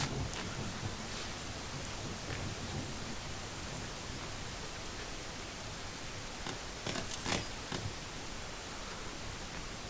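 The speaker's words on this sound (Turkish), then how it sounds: "Aha da yağmur yağıyor." Rain in the survival video game The Forest: a steady, broad hiss of in-game rainfall with a few faint rustling clicks scattered over it, fairly even and moderate in level, with no voices.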